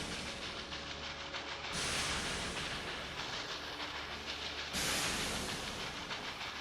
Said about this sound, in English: the trains are still going here, like ignoring the signal.